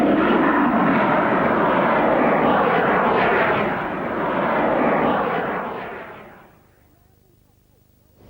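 An amateur rocket lifts off on the Isle of Wight at the Highdown rocket site, a loud broad roaring blast that holds for about six seconds, briefly dips, then fades away quickly into near silence.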